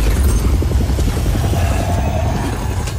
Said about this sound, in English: Engaging cannons...